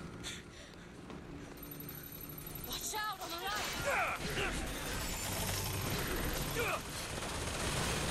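Gunfire from allied turrets shooting at an airship in BioShock Infinite, a dense, continuous clatter of shots and mechanical noise that builds and stays loud, with chirpy game effects mixed in.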